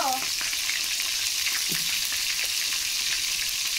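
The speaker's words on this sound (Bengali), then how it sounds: "তেলের ভিতরে আলুগুলো দিয়ে আমি ভেজে নেব।" Potatoes frying in hot oil in a home kitchen, a loud continuous sizzle with occasional stirring and clinks of a utensil, no voices.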